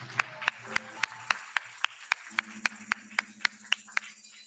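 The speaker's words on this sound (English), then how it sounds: "One last round of applause." Steady, evenly spaced claps ring out at an export awards ceremony, about three per second, crisp and close over a low background hum, with no talk over them.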